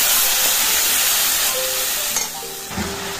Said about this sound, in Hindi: तो ये देख लीजिए मसाला कितने अच्छे से फ्राई हो रहा है।